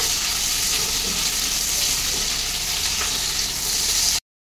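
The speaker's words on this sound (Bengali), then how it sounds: "পেঁয়াজটাও আমি লাল করে ভেজে নেবো" Onions sizzle in hot oil in a pan as the base for a dhaba-style chicken curry, a steady crackling fry heard up close and uninterrupted for about four seconds before cutting off abruptly.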